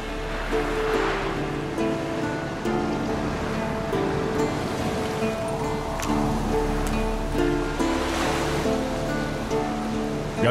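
Steady wash of ocean waves while sailing in The Witcher 3: Wild Hunt, a constant low rumble, surf swelling and easing in soft surges, with faint creaks and ticks layered over it.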